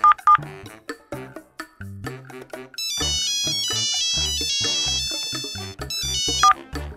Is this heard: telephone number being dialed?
yes